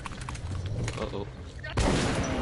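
Gunfire in the first-person shooter Metro 2033, bursts of shots over game noise and a player's voice, ending in a louder, denser blast of sound.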